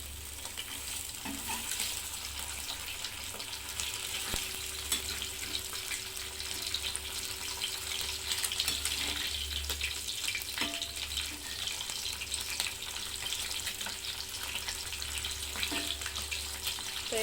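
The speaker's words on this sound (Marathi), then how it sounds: "दोन्ही बाजूनी पण फ्राय झालेली आहे मच्छी" Mandeli fish fry in oil in a pan with a steady, dense sizzle that holds at an even level throughout, broken by a few faint clicks and taps of utensils.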